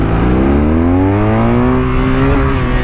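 A 2023 BMW R nine T motorcycle accelerates hard, its engine note climbing steadily in pitch through the revs, loud and close with no talking.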